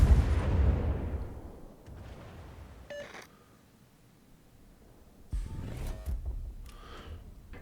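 Petropavlovsk cruiser guns in World of Warships fire HE shells: a loud opening boom rolling off into a long decaying rumble, then a quieter stretch with small clicks before another burst of blasts near the end.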